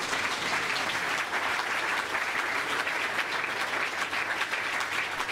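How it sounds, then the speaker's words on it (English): Sustained audience applause for guests at a leaders' panel session, a dense, steady wash of clapping that fills the whole stretch at even loudness with no voices over it. "please give a round of applause to our distinguished guests."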